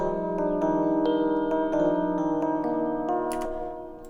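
A soft synth pad melody swells slowly, its held notes washed in heavy reverb that blurs them together into a dreamy, sustained texture.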